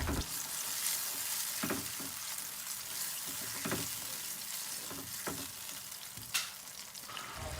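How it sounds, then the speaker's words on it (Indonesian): Ground spice paste sizzling and frying in a pan, a constant crackling hiss broken by the scrape and clack of a utensil stirring it, close up with no speech. "Sekarang bumbunya kita tumis sampai tanak."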